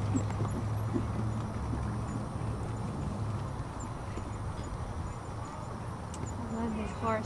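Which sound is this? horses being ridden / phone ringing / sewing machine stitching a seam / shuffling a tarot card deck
horses being ridden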